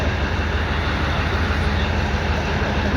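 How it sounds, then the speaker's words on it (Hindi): A goods train rolls past at a station with a continuous heavy broadband rumble and roar, loud and steady throughout with no pauses. "मालगाड़ी"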